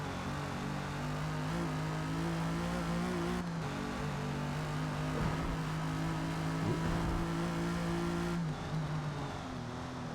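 Car engine running steadily with a sustained harmonic drone that dips briefly around a downshift to second gear, then holds again, close and loud with no talk.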